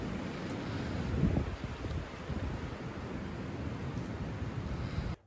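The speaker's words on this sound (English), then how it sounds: "it is whipping wind outside today" Strong wind whips outside a shed, heard from inside as a steady, dense rushing roar with gusty swells and buffeting on the microphone, continuous until it cuts off abruptly near the end.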